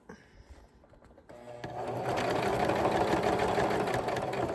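A sewing machine stitches a bucket hat, starting after a brief quiet pause and then running in a steady, loud, close mechanical whir to the end.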